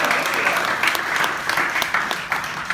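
An audience at a magic shop show breaks into steady, dense applause, a full round of clapping that stays loud and even throughout with a faint crowd murmur beneath.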